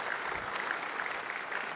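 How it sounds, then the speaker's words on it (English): Audience applause at a career retrospective event, a steady, even wash of clapping heard from some distance at low volume, lasting under two seconds. "applause."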